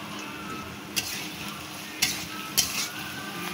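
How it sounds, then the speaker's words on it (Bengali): Sliced onion, green chillies and garlic cloves are stirred while frying in a pan, with a steady sizzle and three sharp scrapes of a spoon against the pan. "পেঁয়াজ, মরিচ, রসুন একটু ভালো করে নেড়ে ভেজে নিতে হবে"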